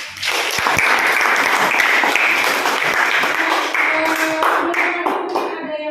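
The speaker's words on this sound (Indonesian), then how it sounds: "Kasih tepuk tangan buat kelompok" A classroom of students clapping for a presenting group in an eleventh-grade math lesson, brisk applause that swells quickly, holds for several seconds and then thins out as a voice murmurs underneath.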